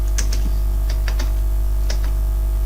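Rapid, uneven keystrokes clatter on a computer keyboard, a close string of light clicks over a constant low electrical hum, with no talking.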